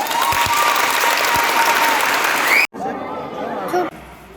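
An audience applauds steadily at a school sports club event, a dense roar of clapping that cuts off abruptly and resumes more thinly, with voices mixed in.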